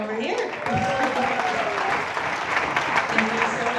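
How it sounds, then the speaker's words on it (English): Applause for the cameraman at the opening ceremony of the European Youth Championships 2021 in Tilburg, Netherlands, a continuous wash of clapping under music and voices throughout. "And also a little applause for our cameraman over here."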